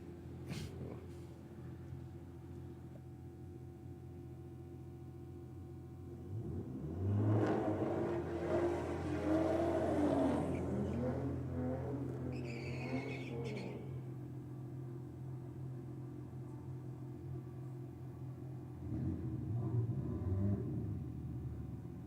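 Ford Falcon and BMW race cars idle as a low, steady rumble, then swell into a loud rev at the start, ease back and rev again near the end, with a brief whine in between.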